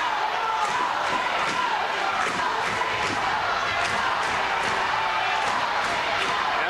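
A home crowd roars at a high school wrestling dual in the final minute of a close match. The cheering and yelling is loud, dense and continuous, with scattered shouts and thuds.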